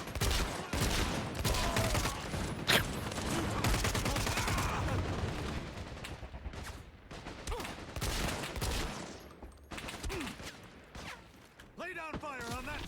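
Gunfire in the video game Caliber: rapid bursts and volleys of shots crackle repeatedly over a battle soundscape, mixed with mechanical clatter while voices talk and call out over the shooting.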